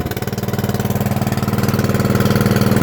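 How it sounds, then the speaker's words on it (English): A Murray riding mower with a 12.5 hp Briggs & Stratton engine runs steadily close by, its loud, even, rapid engine pulse continuing throughout with no talk. "Turn the mower on so you can hear that."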